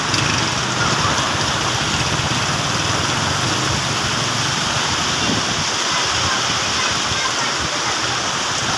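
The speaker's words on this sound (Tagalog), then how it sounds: "Ayan, oh, lakas ng hangin, tsaka ulan." Dense, steady roar of heavy rain with gusting wind, loud and continuous throughout, no clear voices.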